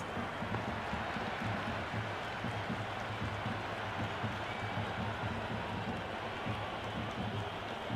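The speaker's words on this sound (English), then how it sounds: "It's evident and ever so audible that the crowd is at near bursting point at today's play." A packed cricket stadium crowd in the Cricket 26 video game, India vs South Africa, keeps up a dense, steady roar of cheering from start to finish without any break.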